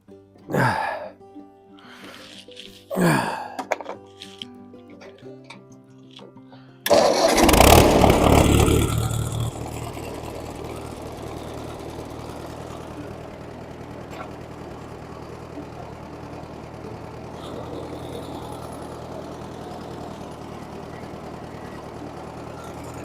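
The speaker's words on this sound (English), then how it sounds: "the theory is I'll start up the tractor, lift up the box blade on the tractor" A tractor with a box blade coughs through a few short cranks, then its engine catches with a loud roar and settles into a steady, rumbling idle that continues to the end.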